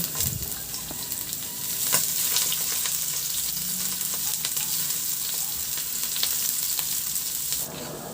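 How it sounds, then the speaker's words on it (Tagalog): Garlic sautéing in hot oil for Sprite pork adobo, a steady close sizzle with occasional stirring scrapes, continuous and fairly loud throughout. "Magpainit na ako ng mantika at igisa ko yung bawang."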